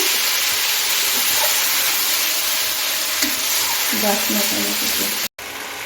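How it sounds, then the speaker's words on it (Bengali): Spice paste being stirred and fried in a pan, a steady sizzling hiss with some scraping stirs near the end before a brief cut. "আমি এখন বানিয়ে রাখা পেস্টটা দিয়ে দিচ্ছি একটু নেড়ে করে নিচ্ছি"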